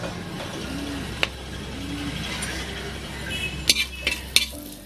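Whole spices, including cinnamon, cloves, cardamom and a bay leaf, sizzle softly in hot oil in a pressure cooker for pulao, a steady low hiss with a few sharp clinks of a utensil near the end.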